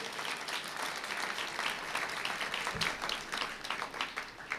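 Church audience clapping at a Christmas sermon, a continuous, fairly distant patter of many hands that is even and moderately quiet throughout.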